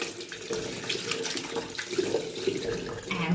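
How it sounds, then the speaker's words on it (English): Tap water runs steadily into a sink while hands are rinsed, a close, continuous splashing hiss with small shifts in the flow throughout and no speech. "Turn on the tap. Rinse off. Rinse off nicely."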